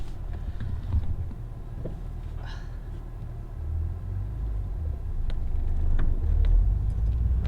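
A lowered six-speed Acura TL drives along with a low, continuous road rumble, broken by occasional sharp knocks and clunks from the suspension as it rolls over the surface.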